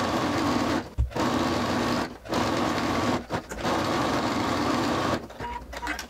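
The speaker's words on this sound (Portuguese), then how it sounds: "abrir, virar tudo pro avesso e fazer um pesponto aqui por cima mesmo com um pé de sapatilha" A sewing machine runs a topstitch seam along a garment turned right side out, a steady close mechanical whir in several bursts broken by short pauses, with no talking.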